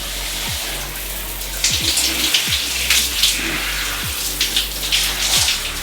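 A cold shower runs steadily during a Finnish summer, its water spattering and hissing continuously, with several deep thudding knocks and louder splashing bursts partway through.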